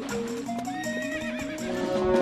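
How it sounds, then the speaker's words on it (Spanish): A horse in Zelda: Twilight Princess whinnies with rising, wavering neighs over quick clip-clop hoofbeats, close and fairly loud throughout. "Es hora de jugar al agarre con el caballo"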